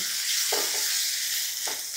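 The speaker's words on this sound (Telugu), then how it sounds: "ఇప్పుడు ఇందులో అల్లం వెల్లుల్లి ముద్ద, పసుపు, పచ్చిమిరకాయలు, వీటన్నిటిని కూడా నూనెలో వేసి మంచిగా వేయించుకోండి" Ginger garlic paste, turmeric and green chillies fry in hot oil for a mushroom masala, giving a steady close sizzle broken by a few soft stirring scrapes.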